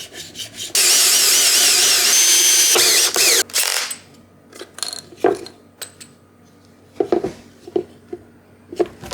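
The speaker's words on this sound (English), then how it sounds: "I'm gonna go ahead and go screw these together first and then come back" Power drill driving screws to join parts, a long steady whirring run followed by a brief second burst, then scattered clicks, taps and handling knocks close by, no voices.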